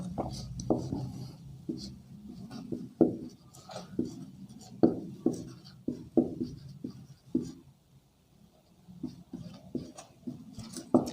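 Pen strokes scratch across paper as a geometry proof is written out by hand, in short rhythmic taps and scrapes with brief pauses between words.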